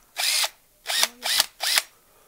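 Electric drill motor running in four short bursts of about a third of a second each, separated by brief pauses. Each burst has a whining rise and fall, and the drill is loud and close with no talk.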